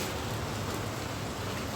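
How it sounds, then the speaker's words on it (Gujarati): Steady rain falls on a rooftop terrace, a soft, continuous hiss heard from a short distance without any talking. "હું તમને અહીંથી વરસાદ બતાવું છું"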